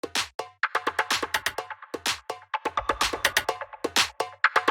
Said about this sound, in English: just two percussion sounds in the drum rack kind of playing off each other